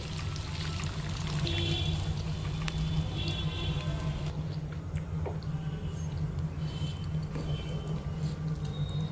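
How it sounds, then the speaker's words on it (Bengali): Boiled corn is poured with its cooking water into a pan for corn curry, a close, steady gush and trickle of liquid over a low background hum, with no speech. "মা এখানে ভুট্টাগুলো জল সমেত দিয়ে দিচ্ছে।"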